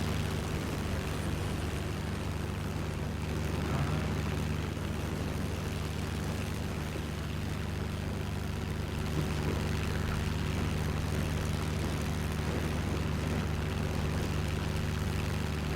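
An aircraft flying in the VR flight game Ultrawings, a steady droning propeller engine hum with a constant tone, continuous and unchanging throughout with no talk.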